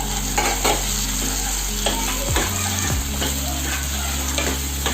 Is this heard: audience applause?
no